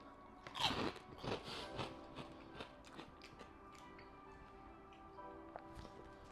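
Pork rinds being bitten and chewed up close, with crisp crunches that are loudest early on and settle into quieter, irregular chewing.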